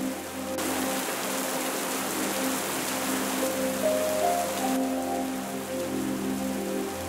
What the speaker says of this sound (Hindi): तभी अचानक तेज आंधी और बारिश आने लगती है।